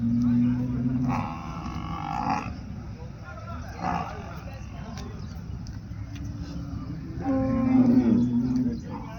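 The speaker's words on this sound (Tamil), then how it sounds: "இதெல்லாம் எருது." Oxen and buffalo at a livestock market moo in several long, deep calls spread across the clip, one near the start and another louder one near the end, over background noise.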